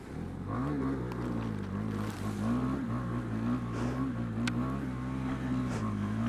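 A Husqvarna Svartpilen 401 scrambler motorcycle pushes through deep water and mud off road, its engine note loud and steady with wavering pitch and splashing throughout, close to the rider.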